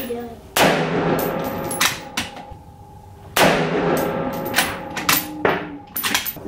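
Two loud, sharp rifle shots from a Savage 224 Valkyrie at an outdoor shooting range, roughly three seconds apart, each with a ringing decay, followed by smaller clanks and knocks.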